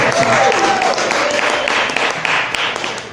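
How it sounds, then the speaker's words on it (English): A room of people applauding at a church gathering in a food lounge, loud and close, a dense wash of clapping that gradually thins and fades, with a faint tone sounding over it near the start. "let's give them one more round of applause"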